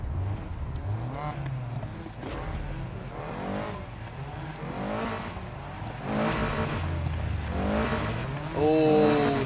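A car engine revs in the Need For Speed Heat racing video game, its rising and falling tones running steadily through the scene, with occasional tire squeal and a voice talking over parts of it.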